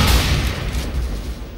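A sniper rifle shot in a Counter-Strike: Global Offensive match, a heavy booming blast whose rumble fills the whole moment and lingers as a dense, loud roar, no talk.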